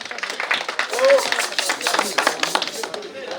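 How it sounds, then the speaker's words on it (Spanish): A crowd claps in a steady, rapid patter at an outdoor Huaylia festival celebration in Antabamba, with voices mixed in over the clapping. "Unas palmas, por favor."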